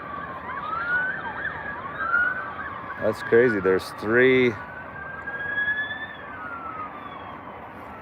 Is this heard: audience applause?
no